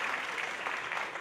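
Audience applause at a school graduation ceremony for the principal, a steady dense wash of clapping filling the short moment with no voices.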